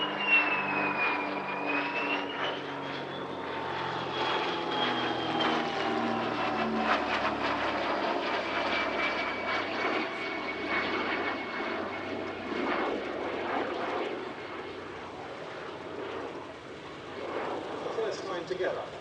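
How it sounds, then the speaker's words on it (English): A de Havilland DH-88 Comet leading a DH-100 Vampire jet in formation at an airshow, a sustained roar of propeller and jet engines with a rising whine, while a voice talks over it. "Together, DH-88 Comet leads the DH-100 Vampire Mk."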